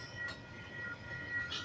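A log train hauled by a Dc and Dfb diesel locomotive combination passes near Trentham, a faint, distant rumble of rolling wagons with a few soft squeals.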